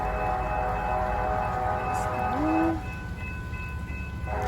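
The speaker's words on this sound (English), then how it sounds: "That's an Amtrak." Amtrak train passing at a distance, a steady low rumble with a brief rising horn-like tone partway through, then the sound eases off.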